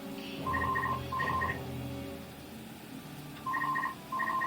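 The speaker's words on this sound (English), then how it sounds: "Oh, there goes the phone." A telephone rings in bursts of a warbling electronic tone, two rings then a pause and two more, fairly clear over a quiet game soundtrack.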